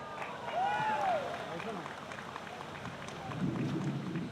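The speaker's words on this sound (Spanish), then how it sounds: "Un fuerte aplauso." Audience applause at a national commemoration ceremony for women victims of violence, moderate and continuous, with whistling and crowd murmur mixed in.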